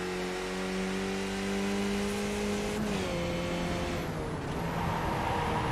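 Race cars lapping Watkins Glen International in a sim racing game, a loud continuous engine drone with pitch shifts as gears change, dense and steady with no voices.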